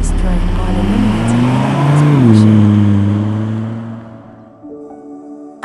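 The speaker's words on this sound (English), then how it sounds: "The exhaust has been expertly tuned to produce a smooth sound with reduced drone" The engine and tuned exhaust of a 2006 Volvo V70R rev up and then ease back down in a smooth, droning tone, with a voice talking over it.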